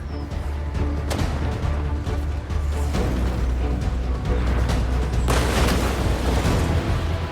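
Bomb blasts from Curtiss Helldiver dive bombers attacking the Japanese battleship Yamato, deep booming rumbles with sharp bursts near 1 and 5 seconds over a constant low roar.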